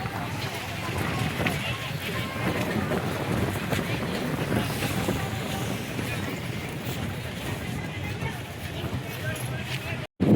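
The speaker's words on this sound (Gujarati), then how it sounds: "દરિયા કાંઠે એકદમ ઠંડો ઠંડો પવન આવે છે" Cool wind blows at Porbandar's Chowpatty seashore as a continuous low buffeting rumble across the mic, with faint voices and beach-side bustle mixed in throughout.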